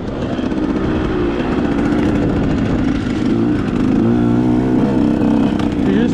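A 125cc motocross bike ridden on an endurance dirt track, its engine a continuous loud buzzing drone with rising and falling revs and close, steady intensity throughout, with no talk.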